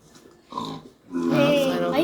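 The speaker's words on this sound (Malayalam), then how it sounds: "പന്നിക്കുട്ടി അതാ" A Minecraft pig oinks in two short bursts, a brief grunt followed by a longer, louder nasal squeal.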